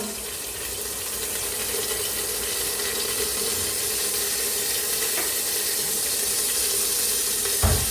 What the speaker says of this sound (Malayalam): വെളിച്ചെണ്ണ ചൂടുമ്പോൾ കുറച്ച് കരിവേപ്പില ഇടുക.